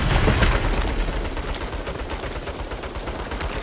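Turret fire in Saints Row, a loud continuous barrage of rapid machine-gun bursts and booming impacts, dense and close, sustained throughout with no talk.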